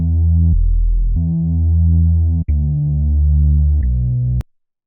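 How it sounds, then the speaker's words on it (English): Dark, heavy synth bass line processed through a Toxic Biohazard synth in an Afrobeat gospel beat, playing sustained rich low notes in phrases with brief gaps, loud and upfront, ending abruptly. "which is this dark bass that I played through Toxic Biohazard"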